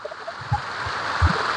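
Water rushes down a temple's stone staircase in a steady broadband hiss, with a few soft low thuds mixed into the continuous flow.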